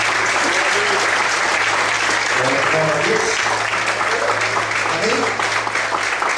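Church congregation clapping for the Lord during a Portuguese-language sermon, dense continuous applause filling the room with shouts and a brief spoken word over it.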